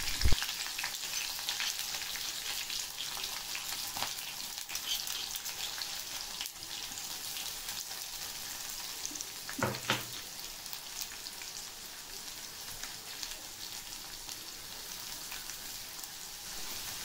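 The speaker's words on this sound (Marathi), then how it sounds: "आता यात मी पहिले फोडणीला हिरव्या मिरच्या आणि कढीपत्ता टाकून घेणार आहे, जेणेकरून ते चांगले फ्राय होतील" Green chillies and curry leaves fry in hot oil as a tempering, giving a steady, fairly quiet hiss like light rain, with a few louder clatters or spatters near the start and middle; no talking.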